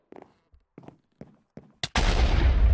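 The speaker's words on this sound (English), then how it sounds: "Mine Factory Reloaded ones blow up once you throw them" A Mine Factory Reloaded fishing rod in Minecraft explodes after being thrown: four soft thuds, then a sharp crack and a loud, sustained blast that roars to the end.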